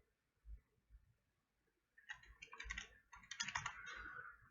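Hunt-and-peck typing on a computer keyboard, a few isolated taps early on, then a busier run of irregular key clicks over the final two and a half seconds, quiet and close.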